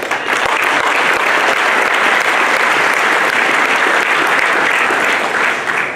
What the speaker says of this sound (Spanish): démosles un fuerte aplauso a ambas